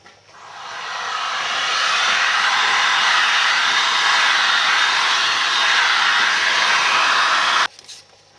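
A hair dryer blows steadily and loudly for several seconds while drying a binder coat applied to a leather repair, then cuts off abruptly near the end, leaving quiet handling noise.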